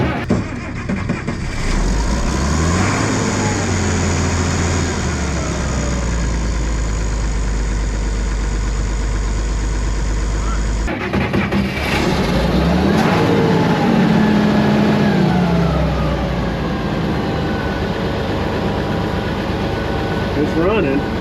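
A long-parked International Harvester 1468 tractor engine cranks, fires and settles into a loud, steady run, with a brief surge partway through and people talking over it.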